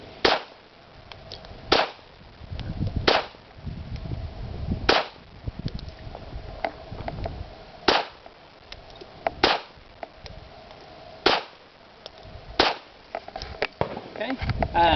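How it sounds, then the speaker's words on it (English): A pistol fires eight rounds at a target, each shot a sharp, loud crack. The shots come at uneven intervals of one to three seconds, with a low background murmur between them. "I believe I got all 8 rounds in the target there."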